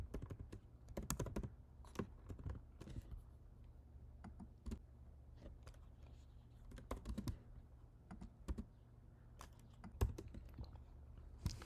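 Quiet keystrokes from a computer keyboard as Python code is entered, with irregular bursts of clicks and short pauses, alone and fairly faint.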